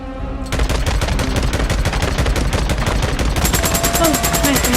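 Rapid automatic gunfire in the video game Days Gone during a fight with a zombie horde at an old sawmill, dense, loud bursts running continuously after a brief quieter start, with a few extra tones near the end.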